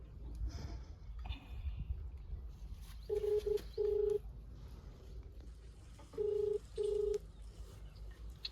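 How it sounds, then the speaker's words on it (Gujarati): Telephone keypad dialing tones, heard as four short, loud, evenly pitched beeps in two pairs over a low background rumble, with no talking. "હવે મારે એસબી સાહેબ ને ફોન કરવો પડશે"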